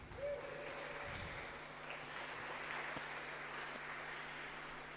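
An audience at a climate change challenge grand finale applauds as a student team is welcomed to the stage, a sustained, somewhat distant wash of clapping that holds steady for several seconds.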